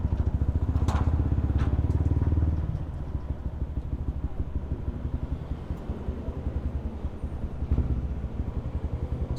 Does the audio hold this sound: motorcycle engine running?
yes